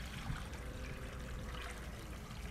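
Water from an off-grid hydro power setup trickles and splashes back into a creek after a settling pond, a faint, steady, continuous burble with no voices.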